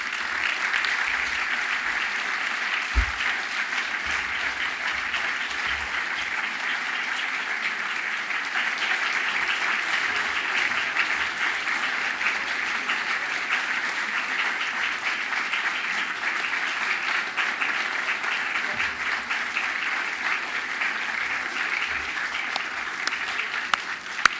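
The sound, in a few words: audience applause for honorees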